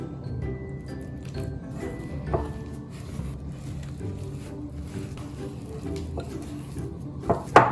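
Coconut cookie dough is stirred with a spoonful of milk in a bowl, giving close, soft, wet squishing and scraping strokes in an uneven rhythm, with a few sharper clicks near the end.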